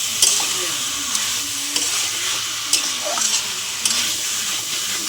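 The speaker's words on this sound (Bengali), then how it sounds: "আমি এবার চিকেনটা ঢেলে দিলাম, কাঁঠালের আটির বীজগুলোও দিয়ে দিলাম, ভালো করে কষে নেব।" Chicken pieces and jackfruit seeds sizzle in a hot pan while a spatula stirs and scrapes them, giving a continuous loud frying hiss broken by periodic scraping strokes. No one speaks.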